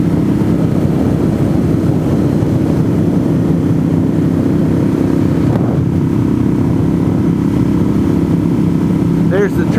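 A motorcycle engine drones steadily and loudly while riding at night, a continuous low rumble with wind noise and a voice talking over it.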